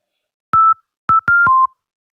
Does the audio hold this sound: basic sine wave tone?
yes